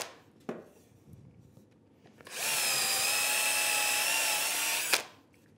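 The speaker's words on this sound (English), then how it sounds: "I'm going to put a drill, just drill a couple of holes in here" A power drill bores holes in wood while a workbench drawer is being built: a single loud, steady whining burst of about two and a half seconds, preceded by faint handling taps and followed by quiet.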